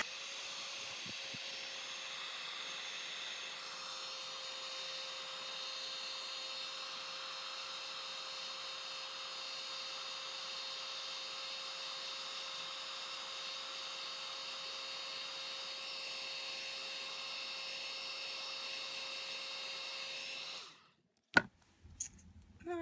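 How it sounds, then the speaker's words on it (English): Heat gun blowing steadily on embossing powder on a handmade fairy card, a continuous airy roar with a faint whine that runs unbroken for about twenty seconds, then cuts off abruptly, leaving a few small handling knocks. "I'm going to use a heat gun to get that embossing to work"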